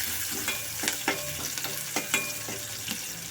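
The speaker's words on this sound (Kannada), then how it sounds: "ಅದಕ್ಕೆ ಅರಿಶಿನ ಹಾಕ್ಕೊಂಡು ಸ್ವಲ್ಪ ಫ್ರೈ ಮಾಡ್ಕೋಬೇಕು." Ridge gourd with turmeric frying in a pan for palya: a steady low sizzle broken by a handful of sharp scraping stirs spaced about half a second apart, close and moderately loud, with no voices.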